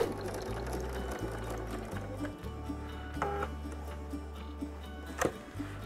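Sewing machine running in bursts as quilt fabric strips are stitched together, a steady low motor hum with brief stops and restarts, close and fairly loud, with a few small clicks and handling noises between runs.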